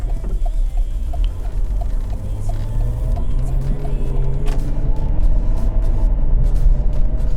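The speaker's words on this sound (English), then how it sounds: "Oh yeah, it's shifting. Damn, it's shifting smooth." A Cadillac CTS driving from inside the cabin, with a steady low engine and road rumble and a faint rising whine as the automatic transmission moves through its gears, with no voices.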